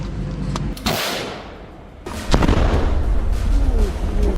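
Frontline artillery fire during a Russian advance in the Ukraine war: two heavy booming blasts, each followed by a sustained rumbling roar, loud and close, with no voices.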